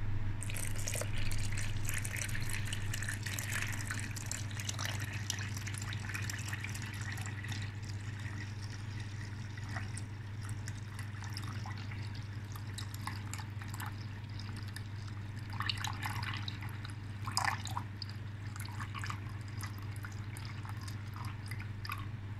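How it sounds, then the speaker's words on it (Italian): Water, 700 grams of it, poured from above onto sourdough starter in a bowl for no-knead wholemeal bread, a faint continuous trickle with scattered splashes and drips over a steady low hum, with no talk. "Andiamo a mettere 700 g di acqua insieme."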